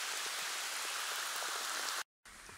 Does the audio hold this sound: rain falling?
yes